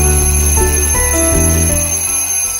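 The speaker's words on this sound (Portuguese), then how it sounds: "E o primeiro som é do alarme." A toy or sound-effect alarm plays a loud, steady stepped melody of bright chiming tones, like an alarm clock jingle, heard alone without talk.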